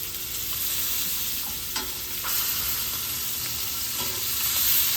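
Bacon-wrapped filet mignon sizzling loudly in a hot pan, a steady close crackle with occasional soft scrapes as the steak is shifted, and no voices.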